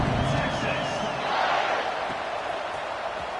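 Large football stadium crowd at an Army versus Texas game, a dense continuous roar heard at a distance beneath a commentator's voice throughout.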